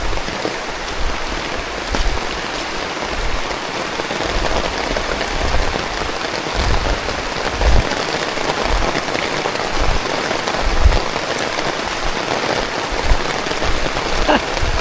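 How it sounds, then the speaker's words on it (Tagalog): Rain pours down on surfaces during an outdoor family meal of grilled food, a continuous close hiss with low rumbling gusts and occasional heavier patters throughout. "Sakto yung ulan, ah."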